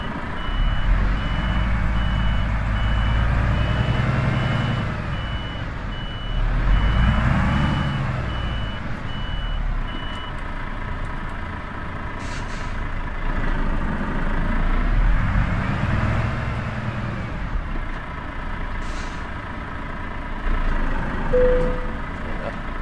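A Renault truck's diesel engine in Euro Truck Simulator 2 idles with a low, steady rumble while a reversing alarm beeps repeatedly, interrupted by a few short tones.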